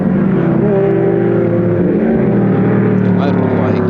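A 1973 touring car races at Warwick Farm on a wet track, its engine droning with steady harmonic tones and a shifting pitch, while a race commentator talks over it continuously.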